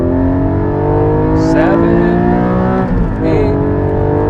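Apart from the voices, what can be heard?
Porsche Cayman GT4 engine revving in acceleration pull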